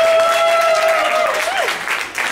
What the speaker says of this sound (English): Let's give the neck a round of applause, too